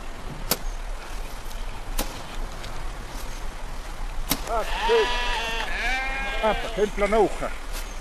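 Several sheep bleat in overlapping, wavering calls during the second half, after a few sharp clicks over a steady outdoor background.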